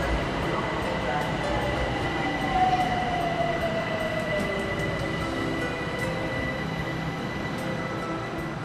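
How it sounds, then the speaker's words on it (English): A Tehran metro train rides along with a continuous loud rumble and steady rail noise from inside the car, a faint wheel squeal rising briefly, no talking. "which I travelled to via metro."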